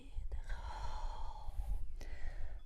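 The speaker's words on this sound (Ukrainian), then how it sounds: "Видих." A soft, breathy exhale during an exercise practice session, close and drawn out over a couple of seconds, with a brief quiet voice alongside.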